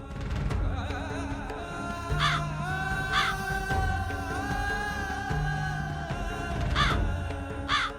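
A crow caws several times, with clear separate calls spaced a few seconds apart, set against a steady tonal background hum.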